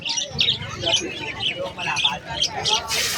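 Pied birds, caged at a bird show, give repeated high chirps and squawks close by, mixed with people talking and a low crowd rumble throughout.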